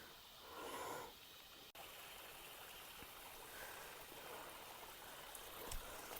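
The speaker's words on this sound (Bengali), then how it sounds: "ঝর্ণা থেকে পানি নেমে আসছে" Water from a waterfall on a rough hill trail pours down in a steady, faint hiss, with a brief thump partway through.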